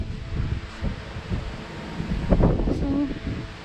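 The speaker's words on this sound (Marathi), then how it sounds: "बापरे केवढा वारा आहे" Strong wind blows at Lake Ontario near Boldt Castle, rumbling and buffeting the microphone in uneven gusts, with a few faint voices in the background.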